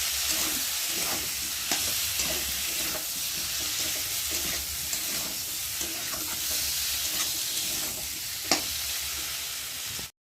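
Potatoes sautéing with masala, salt and turmeric in a pan for a cauliflower curry: a constant close sizzle broken by regular spatula scrapes and one louder knock near the end.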